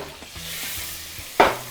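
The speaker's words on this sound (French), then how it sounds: "Donc je vais mettre du beurre comme ça." Butter goes into hot oil in a pan with soft sizzling and a few light stirring clicks, ending in a brief louder sizzle burst, quiet and close with no talk.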